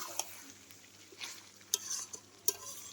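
Mutton with whole garlic cloves is fried and stirred in a pan, a faint sizzle broken by several sharp scrapes and clinks of the spoon against the pan.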